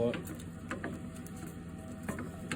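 Egg bhurji cooking in a pan without cream or milk, giving a quiet, continuous frying hiss with soft rhythmic scrapes of stirring throughout.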